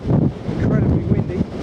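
Strong gusts batter the microphone on an exposed South Downs hilltop near Firle Beacon, a rough, rumbling low roar that surges and dips, with a faint voice partly buried beneath it.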